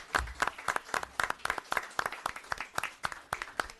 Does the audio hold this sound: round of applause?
yes